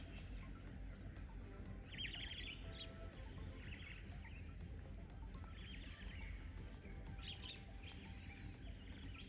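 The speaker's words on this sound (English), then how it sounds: "nice and peaceful, just hear the birds" Birds chirp and sing in scattered bursts against a faint outdoor background hum at a rest camp in Kruger National Park, sounding somewhat distant.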